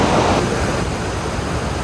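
A mountain waterfall on the road from Dumre to Manang in the Himalayas roars as a dense, steady rush of falling water, loud and unbroken for the brief moment.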